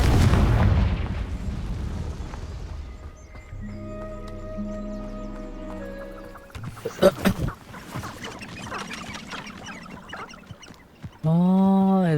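A Confringo spell blast in Hogwarts Legacy bursts loudly, with sharp booming cracks and crackling debris over a low rumble and game music, and a voice briefly shouts over it.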